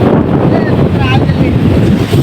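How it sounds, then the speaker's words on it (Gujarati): Loud, constant wind roars and buffets the microphone by the sea at Koliyak's Nishkalank Mahadev temple, a steady rumbling blast with faint whistling above it. "આખો દરિયો છે આટલો બધો પવન છે ને કે તમને કાંઈ સંભળાતું નહીં હોય"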